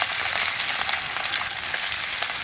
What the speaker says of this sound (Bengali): সব মাছগুলো আমি দিচ্ছি না অল্প অল্প করে ভাজছি